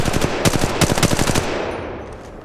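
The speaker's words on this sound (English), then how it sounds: "They're shooting at me!" Rapid automatic gunfire from Apex Legends in a Kings Canyon battle royale, several short loud bursts of shots in quick rhythm that then trail off into fading echo.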